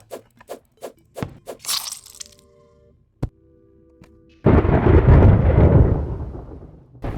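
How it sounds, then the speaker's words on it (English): A lightning strike in Terraria cracks sharply and rolls into a loud, dense rumble of thunder lasting several seconds, coming after a run of short clicky game sounds and a steady tonal hum. "The friggin' lightning going off."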